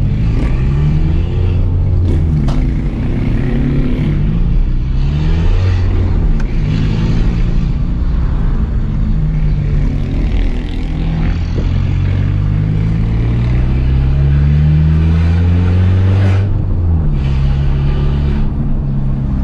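A Peugeot 206 1.4 with a straight-pipe exhaust drives and revs loudly close up, its engine drone rising and falling through the gears with a steady heavy rumble.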